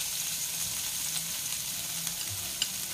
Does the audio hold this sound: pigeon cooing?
no